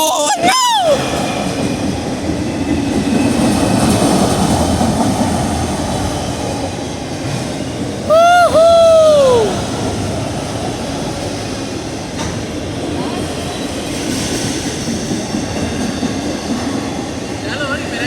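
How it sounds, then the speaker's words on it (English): A CSX freight train with auto rack cars rolls past close by, a continuous rumble and rattle of wagons broken by high squealing wheel or horn tones near the start and middle. Excited voices can be heard over the passing train. "Finally got the CSX train."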